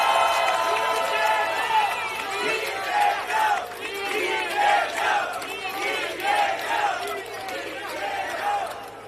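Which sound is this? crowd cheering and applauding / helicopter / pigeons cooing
crowd cheering and applauding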